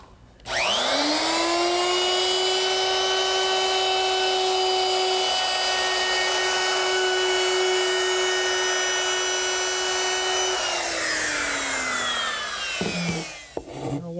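A router fitted with a 3/8 inch radius round over bit, only part of its cutting edge exposed, spins up and cuts a light round over along wood, a steady loud high whine held for about twelve seconds before winding down, with no talk.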